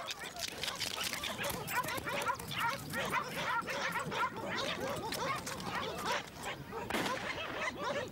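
A hunter's pack of hounds barks and yelps excitedly in the Patagonian wilderness of Torres del Paine, a dense, continuous chorus of overlapping yips and whimpers throughout.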